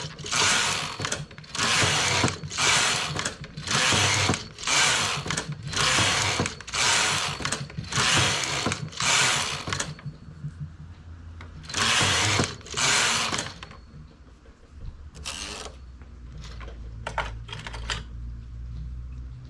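A domestic knitting machine carriage is pushed back and forth knitting rows of a double-band trim, giving loud rhythmic bursts of clattering needles at a steady pace, followed by quieter sparse clicks and handling sounds.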